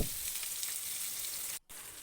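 Green chillies, mustard seeds and garlic fry in a little oil in a pan, giving a steady close hiss and crackle that drops out briefly near the end before resuming.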